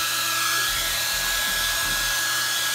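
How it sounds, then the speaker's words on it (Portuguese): A hair dryer runs steadily, blowing hot air onto a W46 smartwatch with a broken display to loosen the screen, a continuous close whooshing hum with a faint low motor drone and no talk. "secador de cabelo."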